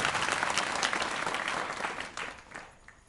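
An audience at a Marathi kirtan breaks into brisk, full applause that starts strong and tapers off over a few seconds, with no voices over it.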